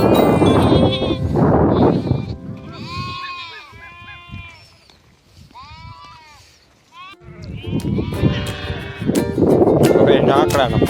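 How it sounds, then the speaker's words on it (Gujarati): A goat bleats several times on a village road, wavering cries rising between stretches of nearby talk. "આ બકરાનો અવાજ સાંભળી ગયો"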